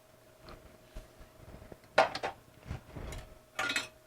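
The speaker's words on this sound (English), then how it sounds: "Stir that all around." A spoon stirring a cornstarch slurry into a New Orleans style shrimp and crawfish lobster sauce in a pot, with a few close clinks and scrapes against the metal between quieter gaps.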